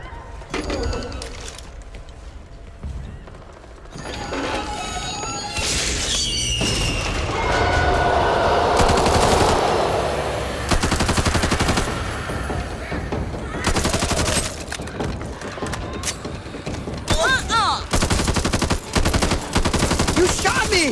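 Gunfire from the video game Back 4 Blood, with bursts of shots and thuds running through a busy, dense game soundscape while people talk over it.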